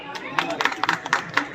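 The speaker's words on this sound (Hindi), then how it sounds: "तालियां।" An audience at a community unity gathering claps in a short, uneven patter of hand claps that rises briefly and then thins out, heard fairly close with no talk over it.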